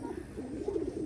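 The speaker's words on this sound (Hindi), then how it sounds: "कितना खूबसूरत कबूतर है ये।" A captive pigeon, one of a newly caught group, gives a low soft warbling coo, close and fairly quiet, lasting about a second.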